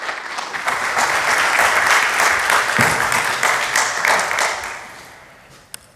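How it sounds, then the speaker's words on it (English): Audience applause for a conference speaker at the nz.js(con) JavaScript conference, a sustained round of clapping from a hall crowd that holds steady for several seconds, then tapers off near the end with one last sharp clap. "Everyone give him a round of applause."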